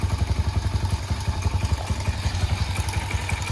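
A freshly rebuilt 141cc big bore motorcycle engine idles on its first start, a close, steady fast-ticking chug with a lumpy low thump and mechanical clatter, running alone without talk.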